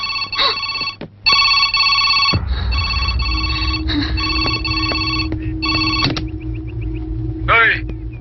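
A telephone rings in repeated bursts of a bright electronic tone over a low hum, with a brief voice near the end.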